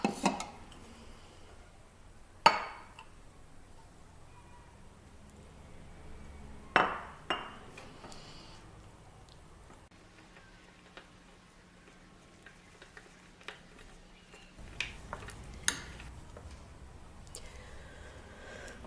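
White wheat flour and water stirred together in a bowl for a levain starter; a spoon clinks against the bowl in scattered sharp taps over a quiet, soft scraping background.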